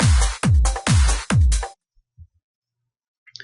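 Layered percussion loops for an uplifting trance track play in FL Studio as four punchy, booming hits in a quick even rhythm, followed by a few faint stray sounds and near silence.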